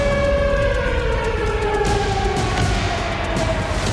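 Civil defense sirens wailing across Russia during a nuclear drill, a loud continuous tone slowly sliding in pitch, steady throughout.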